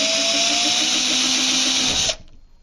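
A power drill whines loudly and steadily as it bores a pilot hole for a peephole through a wooden door, running close by without a break and then cutting off sharply.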